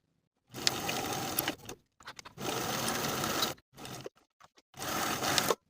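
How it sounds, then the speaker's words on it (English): A sewing machine stitches a coat collar seam in three bursts of steady whirring, each a second or so long, separated by pauses with a few short clicks and stutters as the fabric pivots at the corners. "Sew from one bottom edge, pivoting at the top corners to the opposite bottom edge with a 3/8 inch seam allowance."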